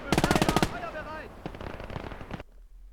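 An MG42 machine gun fires in a World War II video game, a loud rapid burst of rounds at the start, then scattered gunfire and game sounds under someone speaking before everything cuts to near silence.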